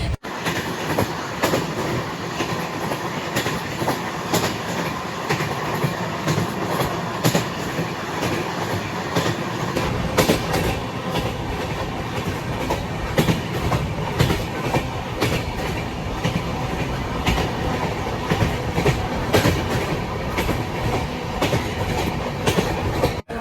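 An Amrit Bharat Express train on the Malda to Lucknow route rolls along the rails with a steady rumble and rhythmic clatter of wheels, loud and close throughout.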